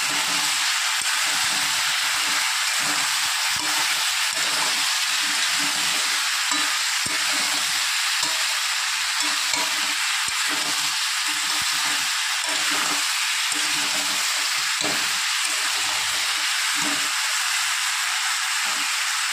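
Chunks of elephant foot yam and potato fry in hot oil, giving off a steady, even sizzle and hiss that lasts throughout, with soft stirring scrapes and no voices.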